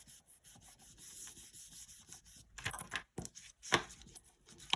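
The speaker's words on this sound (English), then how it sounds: "No, I'm not rolling, I'm just rubbing, burnishing this." Rubbing and burnishing strokes of a burnishing tool over a translucent polymer clay pendant, soft scraping at first, then louder, denser bursts of friction toward the end, close and without speech.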